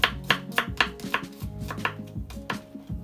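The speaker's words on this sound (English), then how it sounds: "Just gonna cut up the garlic just like that, then chop them in it." A kitchen knife chops garlic on a cutting board for a beef stew, about a dozen crisp, close knocks in a quick uneven rhythm, with no talking.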